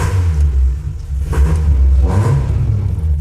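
A Renault Clio 1.8 engine revs in two swelling pulls over a steady low rumble, loud and close, with no voices.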